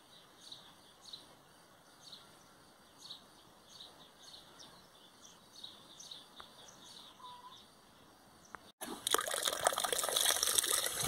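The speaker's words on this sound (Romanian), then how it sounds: "Vișinele culese le spăl bine cu apă." Freshly picked sour cherries from a backyard tree are rinsed in cold water: a soft trickle with faint birdsong behind it, then a sudden loud rush and splash of running water near the end.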